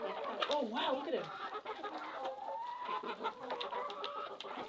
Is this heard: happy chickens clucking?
yes